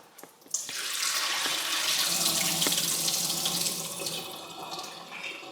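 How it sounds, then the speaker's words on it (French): Cold tap water runs steadily into a container as seeds are rinsed. It starts with a sudden splash and then becomes a continuous, full, close rushing flow that lasts throughout with no voices. "On remplit d'eau froide."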